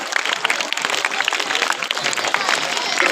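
Loud, dense applause for a top-scoring student at a school awards event, many hands clapping continuously close by for the whole stretch.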